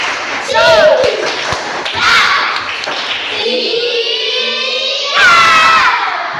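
Fourth-grade classroom children performing a rhythmic group clap routine, bursts of clapping and shouted chants alternating with a teacher's voice leading them.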